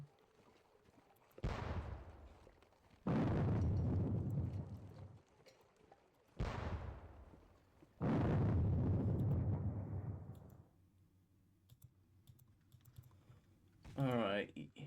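Artillery guns firing in a Napoleonic wargame video game: four heavy booming blasts, each with a long rumbling tail and spaced a second or two apart, then a low hum and a brief squeak, with a faint voice now and then.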